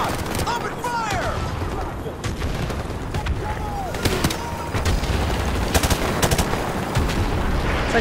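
Rapid bursts of automatic gunfire and explosions crackle through a chaotic firefight in Call of Duty 4: Modern Warfare, loud and dense, with shouted voices over the din.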